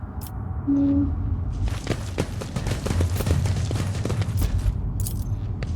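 Grenade blast and gunfire in the video game Rogue Trader: a thump, then a rapid run of crackling shots and impacts that continues as a dense, loud barrage to the end, with brief tonal game cues.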